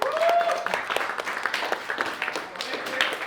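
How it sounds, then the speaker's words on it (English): A small group of men applauds Kate after a nutrition talk: brisk, moderately loud clapping that thins toward the end, with a voice briefly heard over it at the start. "round of applause for Kate, please"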